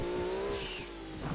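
A car half-spins in the Gran Turismo 2 racing game, with a sustained engine drone and a thin tire squeal sliding through it, loud and continuous with no talking.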